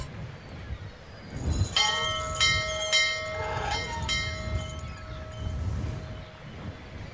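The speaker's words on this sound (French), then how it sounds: "il faut aller faire l'autre cloche" A bell tolls in the Syberia video game, several ringing bell strikes with long metallic overtones that overlap and fade over a low background rumble.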